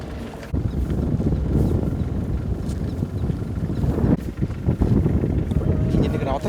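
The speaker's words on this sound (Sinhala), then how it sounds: "ඉන්ජින් එක නවත්තනවා." A boat engine runs steadily as a low, rumbling drone through the whole stretch, mixed with wind buffeting and voices talking over it.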